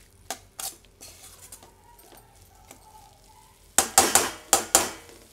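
Chayote squash curry with green chili and coconut being stirred in a pan, with quiet scraping at first, then a quick burst of loud metallic clanks and knocks from the spoon hitting the pan near the end.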